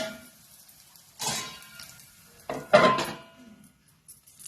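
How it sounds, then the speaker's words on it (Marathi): A metal lid clanks twice onto a pan over a moong dal bun dosa, with two short distinct knocks and a bit of rattle in a quiet kitchen. "आता याच्यावर आपण झाकण ठेवायचं"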